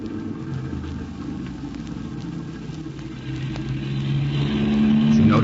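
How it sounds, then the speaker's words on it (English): A car drives past in a 1935 radio drama sound effect, a steady engine rumble that swells gradually as it nears, with no voices over it. "Did you notice that car?"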